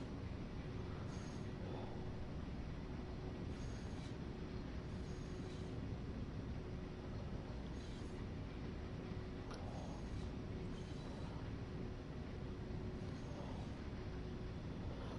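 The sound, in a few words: train locomotive running in the video game Train Sim World 6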